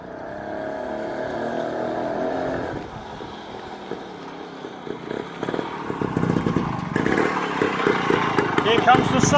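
A 1955 Sun 98cc motorcycle passes nearby, its small engine's buzzing putter rising in loudness and rattle as it approaches over the last few seconds, with voices talking over it.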